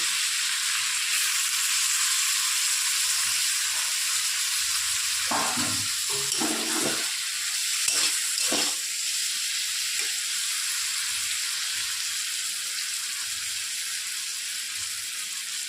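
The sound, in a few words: frying onions after frying prawns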